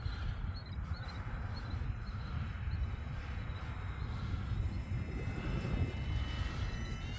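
Small E-flite UMX Turbo Timber Evolution RC plane in flight, a steady electric motor drone with a thin high whine, fairly distant and even, over a low outdoor rumble.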